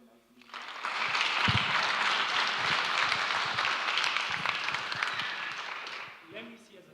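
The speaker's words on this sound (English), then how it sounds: "Let's clap for them nicely." An audience at an AI training session claps for the presenters, a dense, sustained wash of applause swelling quickly and fading after about five seconds.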